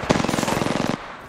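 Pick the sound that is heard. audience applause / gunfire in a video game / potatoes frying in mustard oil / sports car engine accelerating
gunfire in a video game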